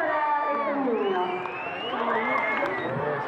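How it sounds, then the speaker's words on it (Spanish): Children and adults at a school prize ceremony cheering and shouting for a child, a dense, steady wall of excited voices and whoops with scattered clapping underneath. "Un gran aplauso para este niño."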